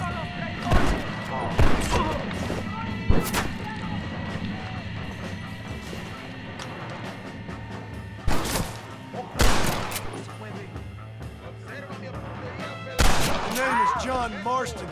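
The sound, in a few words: gunfire in Red Dead Redemption video game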